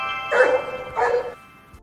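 A dog gives two short, close barks about half a second apart. The barks are tonal and a little hoarse, and a quiet pause follows.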